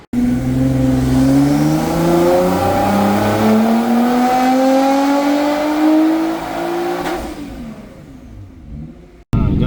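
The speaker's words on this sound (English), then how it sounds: "let's go ahead and start this car here" A tuned car engine making 549 wheel horsepower revs hard under load on a dyno, its pitch climbing steadily for several seconds before easing off and dropping away.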